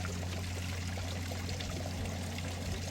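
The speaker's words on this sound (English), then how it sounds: "there's like almost a little waterfall running right over there" Meltwater runoff from glacier ice spills over a small waterfall, a steady, continuous pouring rush close by with no other sounds.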